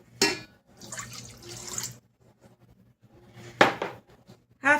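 A cup of water poured into checkerboard cake mix in a bowl, with short splashing bursts and light clinks separated by quiet gaps, close up and without speech.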